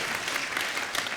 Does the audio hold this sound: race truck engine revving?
no